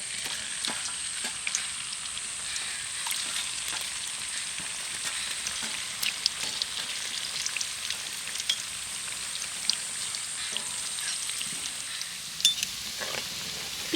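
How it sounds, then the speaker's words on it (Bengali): Palm-fruit pitha cakes sizzle steadily in hot oil, a close, continuous crackle dotted with occasional sharp pops, with no one talking. "তেলটা ভালোভাবে গরম হয়ে গেছে এবার আমি পিঠেগুলোকে তেলের মধ্যে ছেড়ে দেব"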